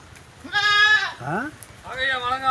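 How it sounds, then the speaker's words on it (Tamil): A goat bleats twice in quick succession close by, wavering cries with a short gap between, while a person talks alongside. "ஆட்டு சத்தம் கேட்குதா? ஆடே தான்."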